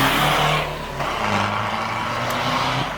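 A VW Golf engine runs steadily after a gearbox and clutch repair, a loud close idle hum with slight shifts in pitch and no talking.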